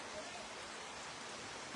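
Heavy rain pours steadily in Losal, a dense, even wash of broadband hiss with no breaks, fairly faint and distant-sounding throughout.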